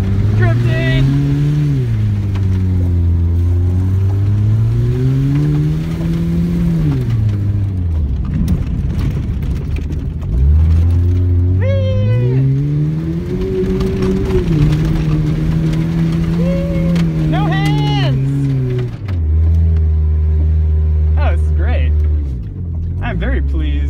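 A truck engine revs up and down in long, loud swells while the truck drifts on frozen ground, with excited voices talking and whooping over the engine.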